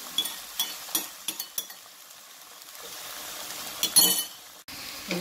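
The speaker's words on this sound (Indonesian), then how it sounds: "tumis ya teman-teman. Aduk ya teman-teman." A spoon clinks against a pan while turmeric leaves, bay leaves, kaffir lime leaves, lemongrass and galangal are stirred and sautéed, with a soft sizzle underneath and several sharp taps spaced out over the stir.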